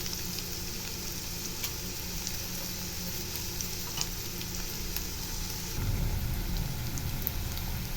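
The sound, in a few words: onions frying in oil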